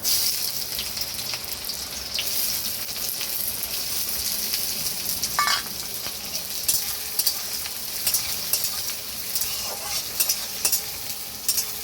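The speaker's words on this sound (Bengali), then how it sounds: "পেঁয়াজটা আমি লাল করে ভেজে নেব।" Diced onions sizzle continuously in a hot pan, with scattered crackles and the occasional scrape of stirring; no one speaks.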